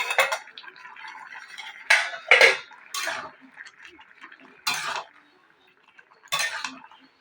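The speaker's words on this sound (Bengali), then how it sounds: "তো এবার আমি ঢাকনাটাকে খুলে নেব।" A metal lid lifted off a cooking pot of greens, with several sharp clinks and clatters spread over a few seconds amid quiet kitchen handling and scattered brief speech.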